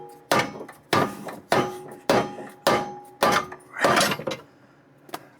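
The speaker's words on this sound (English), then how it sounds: "then hit it with a hammer" Six sharp metallic-wooden impacts of a hammer striking car suspension, at a steady pace, each ringing briefly, followed by a faint final tap.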